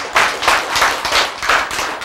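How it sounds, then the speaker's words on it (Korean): An audience breaks into applause during a sermon, rhythmic communal clapping in steady unison beats, loud and close, with no talking over it. "박수."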